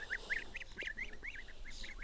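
Large geese at a private pond honk repeatedly in a busy flock, their nasal calls overlapping in an uneven rhythm against a low background rumble.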